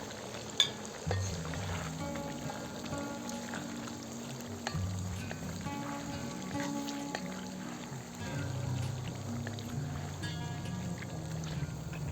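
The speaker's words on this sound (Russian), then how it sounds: "Добавляю лук и жарю его до золотистого оттенка." Onions sizzling and crackling steadily in a pan on an electric stove for Uzbek plov, with occasional stirring scrapes and small clinks, no voices.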